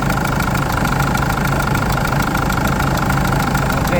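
Kia Bongo III diesel engine idling with a faulty number 3 injector, a loud, close, steady rumble with an uneven knocking pulse throughout.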